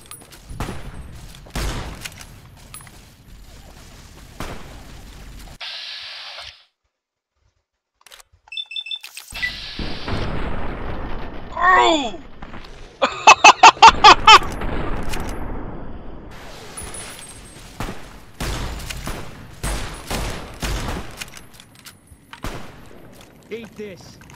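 Gunfire in the Fallout New Vegas battle for the dam: sharp sporadic shots and rapid bursts, near and loud, with a short silent gap and a dense volley mid-way, under occasional talking.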